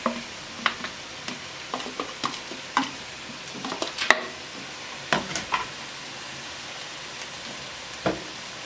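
Kale is stir-fried in a pan with tomato for a couscous farofa with calabresa sausage, giving soft intermittent sizzling crackles and scattered clicks of stirring, close and fairly quiet.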